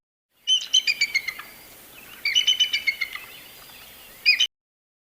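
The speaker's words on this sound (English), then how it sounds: "Bald eagle." A bald eagle gives high, thin chirping calls in two rapid bursts of several sharp notes, followed by a brief third burst, close and clear against a quiet background.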